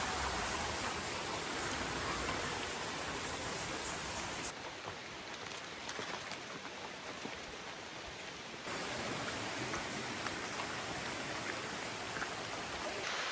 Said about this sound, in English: you can see we got some jungle rain coming in